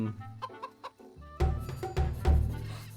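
Chickens in the video game CHKN, a series of short clucks and squawks, a few sparse calls at first, then louder, denser clucking bursts close by.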